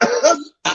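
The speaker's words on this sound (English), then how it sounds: "The cough." A single cough from a veteran dancehall deejay during a live show appearance, a short burst that trails off, a brief silence, then a second rough burst, close and fairly loud.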